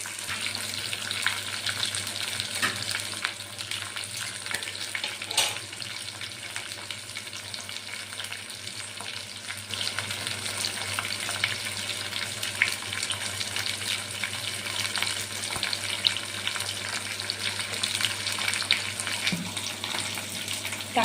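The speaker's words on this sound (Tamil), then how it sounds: "பூண்டு இஞ்சி கருவேப்பிலை இது இதில் போட்டு வணக்கிறோம்" Garlic, ginger, curry leaves and onions frying in a pan for dried fish curry, giving a steady, even sizzle and crackle that runs unbroken for about twenty seconds with occasional stirring and no talk.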